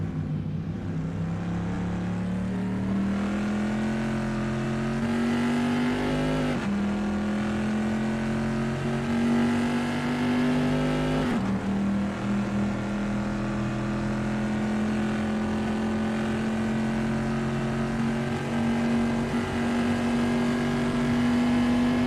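At Imola's Rivazza corner, a historic pre-1973 race car in a racing game snarls loudly and steadily, its engine climbing in pitch between two crisp gear shifts, heard close with no voices.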